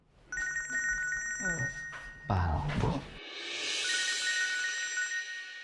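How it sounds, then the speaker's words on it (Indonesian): A telephone rings in repeated bursts, close and fairly loud, with a brief spoken word and some background clatter between the rings and a hiss-like noise toward the end. "Saya izin angkat telepon sebentar."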